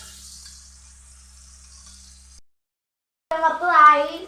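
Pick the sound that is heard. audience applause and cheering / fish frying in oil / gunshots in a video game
fish frying in oil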